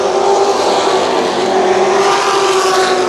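ARCA Supercars race cars howl around Kil Kare Speedway in a continuous loud engine roar, several cars blending into one sustained drone with no break across the clip.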